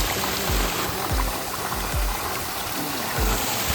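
Water pours steadily from a farm water pump motor outlet in a loud, continuous rushing gush, heard close up with no speech.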